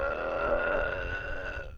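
A long, drawn-out burp with a rough, grunting voiced tone, held steady and loud for nearly two seconds with no talk over it.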